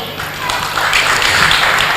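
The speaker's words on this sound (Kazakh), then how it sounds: "Қол шапалақлар болсын" Crowd clapping at a Kazakh family celebration, a steady wash of applause from many hands filling the room at close range.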